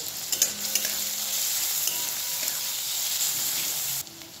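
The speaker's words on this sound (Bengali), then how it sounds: "এবারে পেঁয়াজটাকে বেশ ভালো করে ভেজে নিতে হবে" Chopped onions and green chillies fry in oil after cumin, giving a bright, continuous hissing sizzle with a few stirring knocks at the start before the sound cuts off abruptly near the end, with no voices.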